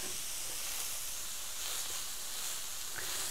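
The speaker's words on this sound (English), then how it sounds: "I have reduced the heat on my pan down to about 275 so that these can continue to cook a little bit longer." Chicken breakfast sausages sizzle on a pan turned down to low heat, giving a steady, moderately loud hiss that runs unbroken throughout with no talk.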